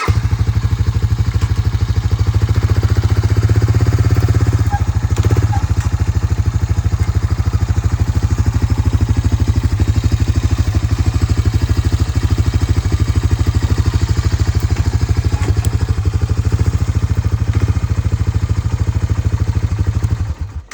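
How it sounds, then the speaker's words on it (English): An ATV four-wheeler running on a farm beside a bale unroller, its engine a loud steady close-up chug and rattle that holds for about twenty seconds before cutting off at the end, with no one speaking. "I need to pull the four-wheeler up just a little bit"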